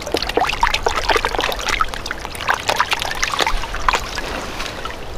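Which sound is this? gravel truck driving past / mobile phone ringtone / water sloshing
water sloshing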